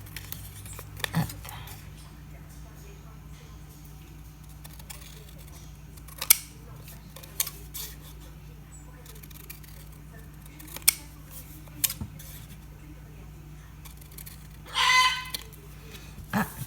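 Scissors cutting paper, a few short, faint snips scattered over a quiet room tone, close by and soft.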